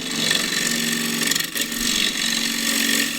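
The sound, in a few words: bowl gouge cutting spalted wood on a lathe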